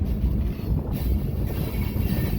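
Freight train crossing the Colorado River Bridge at Parker, Arizona, heard from atop an open lumber rack car: a steady, heavy low rumble of wheels and rails with constant wind buffeting the microphone.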